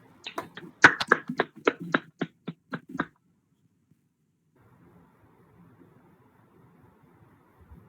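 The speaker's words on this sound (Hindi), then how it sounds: "और एक बार तालियां तो होनी ही चाहिए उनके लिए।" Sparse hand claps ring out at a poetry gathering, a dozen or so sharp close slaps in quick succession that stop abruptly after about three seconds, followed by near silence with a faint low murmur.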